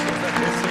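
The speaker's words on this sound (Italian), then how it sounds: "Un applauso a Dino!" Studio audience applauding at a singing talent show, steady dense clapping that fills the short moment with no pause, crowd noise blended in.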